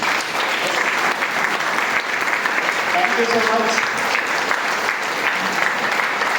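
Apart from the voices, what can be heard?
audience applause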